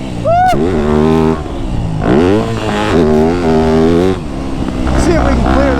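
A Yamaha YZ250F dirt bike racing fast around a motocross track, its engine revving loudly and close, pitch rising and falling in rapid surges as the rider shifts and accelerates, with a voice shouting over it.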